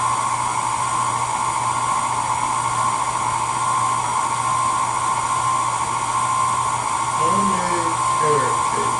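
An electric mixer beats carrot cake batter on a slow setting, giving a loud, steady motor whine close to the microphone, with some brief scraping or clatter near the end.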